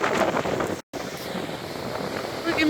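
Strong wind at sea with huge waves, heard as loud, rough wind buffeting the microphone and a broad surf rush, broken by a brief dropout, with voices talking over it.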